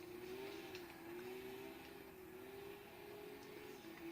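A race car engine in the video game Gran Turismo 6 holds a steady, buzzing tone under acceleration, fairly faint and continuous, with no talk.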